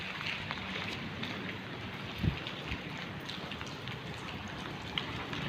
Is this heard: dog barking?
no